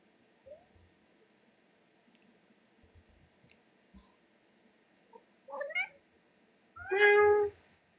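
A cat lets out a few short meows in a quiet room, starting faint and ending with a louder, clearer meow near the end.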